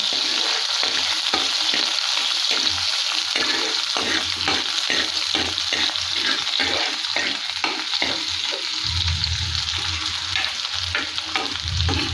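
Onion and curry leaves sizzle and crackle in a shallow pan of oil for a pumpkin curry, with steady frying hiss throughout and a few stirring scrapes, close and fairly loud, no talking.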